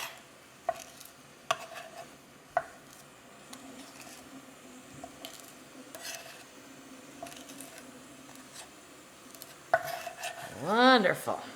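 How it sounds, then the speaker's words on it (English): Ingredients being worked into a paste on a cutting board with a utensil: soft scrapes and taps, a few sharper knocks early on, and a brighter metallic scraping swell near the end, no talking. "I'm just going to work this into a paste"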